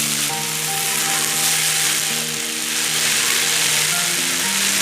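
Garlic tadka sizzles loudly as it is poured over fenugreek greens, making a continuous bright frying hiss with faint tonal hums running beneath it.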